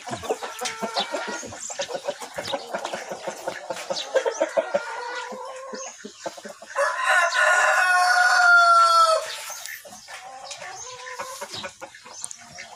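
A Peruvian breeder gamefowl rooster crows loudly and close by, one long crow in the middle surrounded by busy clucking and calls from other fowl.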